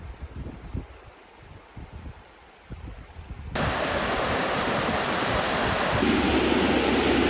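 The Lochsa River in Idaho rushes past as a dense, steady roar of flowing water, quieter and broken at first, then abruptly becoming loud and constant for the remainder.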